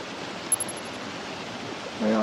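Flowing water of Taylor River at a trail crossing, a steady broadband rush of a stream filling the clip, close and continuous, with a brief tick near the start.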